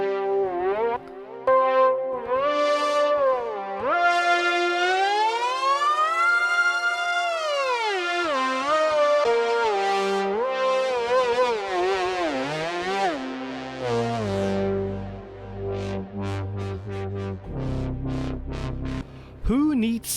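Synth lead patches from the Ethera Evi 2.0 virtual instrument play in turn. Bright sustained leads glide and bend in pitch, some with a siren-like sweep, and later give way to shorter plucked notes. They are loud and close, with no talk.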